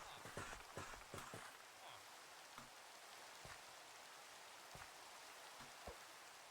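Steady rain falls in the Minecraft video game, a faint, even hiss scattered with soft drip-like taps that are busier at the start.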